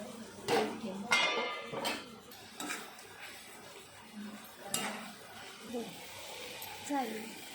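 Metal plate and pan clatter as a plate is set as a lid over a pan of fenugreek bhaji with moong dal, several sharp clinks spread across the clip with a quiet background between them.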